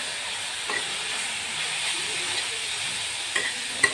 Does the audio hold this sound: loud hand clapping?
no